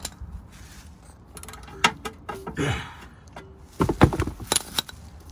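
Sump plug being undone with a square 8mm key on a Vauxhall Movano 2.3 diesel van during an oil change, giving irregular metallic clicks, ratcheting and clanks close by, with a brief scrape midway and a busier clatter near the end.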